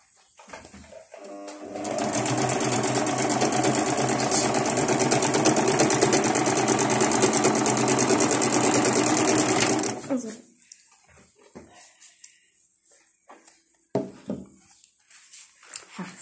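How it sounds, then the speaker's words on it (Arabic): A sewing machine stitches lining fabric for a leatherette spoon pouch, running loud and steady for about eight seconds before stopping, followed by quieter scattered handling noises. "ها ننتقل الى ماكينة الخياطة باش نخيط الدونتير"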